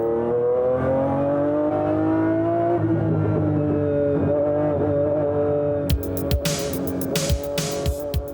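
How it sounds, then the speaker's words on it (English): Heavy, powerful race cars on a fast banked track, a sustained loud engine drone with shifting pitch as a car passes, followed by sharp bursts and clatter of further cars going by. "At the end of the main straight, the top cars reach 175 miles per hour"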